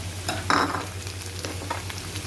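Onion frying on high heat in a pan for fried rice made from leftover rice, a steady close sizzle with a louder burst of stirring early on and a constant low hum underneath.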